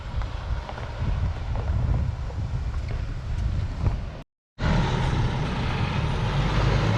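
A truck delivering sand to a leach field excavation site rumbles in with a heavy low engine drone and wind buffeting, briefly cut out by a short gap, then resuming just as loud.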